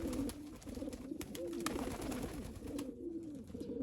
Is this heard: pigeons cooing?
yes